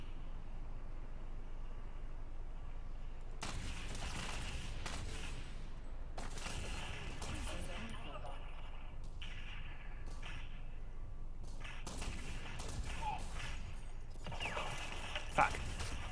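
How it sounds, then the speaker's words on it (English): Pistol fire in the shooter game Ghost Recon Phantoms, several loud bursts of close gunshots separated by short gaps, mixed with game combat noise. "I'm gonna use my pistol now."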